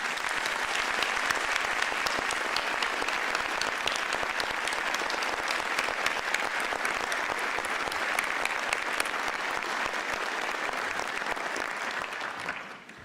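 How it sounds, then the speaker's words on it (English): Sustained, dense applause fills a swearing-in ceremony for a new Los Angeles County sheriff, honouring the sheriff's family; steady and even throughout, fading out in the final second. "giving a huge round of applause to the entire Luna family"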